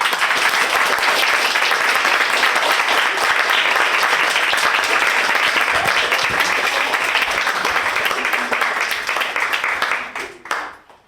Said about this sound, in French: on va les applaudir, mais super fort pour essayer qu'ils nous entendent.